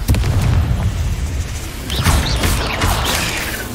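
A Confringo blasting spell cast in the Hogwarts Legacy video game, heard as a sustained, loud booming explosion with rumbling low end and a whooshing burst partway through, with no talk over it.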